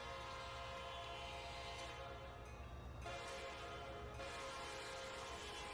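A Roblox train runs with a loud, sustained horn blast over its rumbling wheels, the harsh tone holding steady and clipped to an obnoxious level, no voices present.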